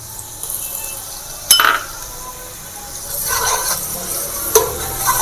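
Ground garlic and ginger paste stirred in hot ghee for Peshawari namkeen mutton gosht, a light sizzle underneath with a couple of sharp metal spoon clinks against the pot and brief scraping bursts.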